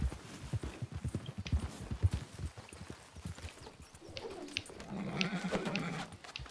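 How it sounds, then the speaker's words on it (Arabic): Hooves of a purebred Arabian horse clip-clop in a quick, even rhythm close by, then fade as a whinny and pigeon-like cooing rise over the last seconds. "والله غالي هذا، ما حصان، هذا حصان فرسي."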